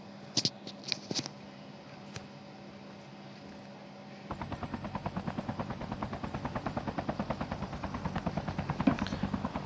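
A helicopter in a Call of Duty game starts up after a few sharp clicks. Its rotor chops in a rapid steady pulse that builds and stays moderately loud to the end, with no voices.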